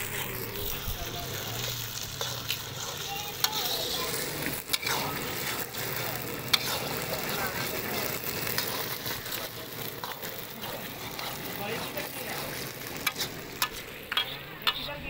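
An omelette fries in a pan over an outdoor cooking fire, giving a steady, loud sizzle with occasional scraping and stirring clicks, while a voice talks over it.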